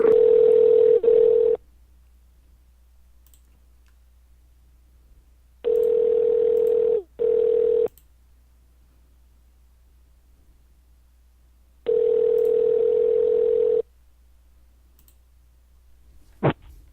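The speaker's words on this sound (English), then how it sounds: "Good old Skype noises" A Skype call ringing tone sounds in three steady bursts separated by silence, the middle one broken briefly, then a single click at the end.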